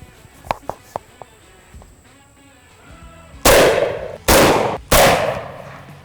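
Shotgun fires three loud close blasts of Rhodesian Jungle birdshot-and-buckshot rounds at a VP4 vest, spaced about a second apart, after a few light clicks from handling.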